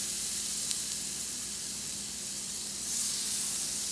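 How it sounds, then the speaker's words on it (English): Olive oil sprayed onto a hot Blackstone griddle for blackened catfish gives a continuous close hiss and sizzle that swells slightly near the end, with no talk. "I'm gonna go ahead and spray it down with the olive oil."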